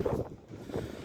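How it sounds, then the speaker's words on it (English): Wind gusts on the coast at Mablethorpe buffet the microphone in low, rumbling bursts, rising and falling over about a second with no other clear sounds. "it's very windy"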